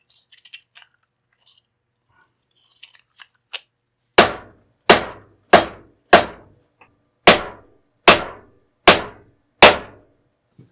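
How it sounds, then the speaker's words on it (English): Hammer blows on a metal milling machine tailstock part: a few faint taps, then about nine loud, sharp, evenly spaced strikes with quick ringing decays, close by with no talking. "I just needed a bigger hammer."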